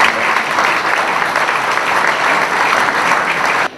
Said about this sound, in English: All the marshals out there today got absolutely soaked, and they did a fantastic job and deserve a big round of applause for getting this event out.